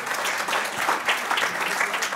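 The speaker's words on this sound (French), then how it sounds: "on peut l'applaudir" An audience at a conference on bathrooms, the 6th Etats généraux de la salle de bain, applauds a speaker in a short, even burst of many hands clapping at moderate loudness, with no voices on top.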